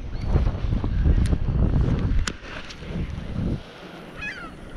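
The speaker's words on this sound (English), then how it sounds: "The wind's getting a little rough." Wind blowing across Lake Ontario on a small fishing boat during spring brown trout fishing, buffeting the microphone with a loud, gusty rumble that eases near the end.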